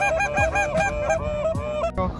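Snow geese honk loudly and continuously during a North Dakota goose hunt, their overlapping calls close and layered, with no voices in between.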